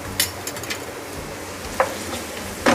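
Tomatoes seasoned with a little salt sizzle and fry in a pan on a gas flame, with steady crackling and a few sharp scraping stirs near the start and end, close and fairly quiet.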